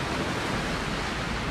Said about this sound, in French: Il y a des séries d'énormes vagues.